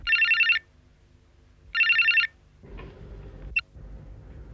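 An electronic telephone ring sounds twice in a Hindi crime drama scene, two clear bursts about a second apart, followed by handling noise and a soft click as the phone is picked up.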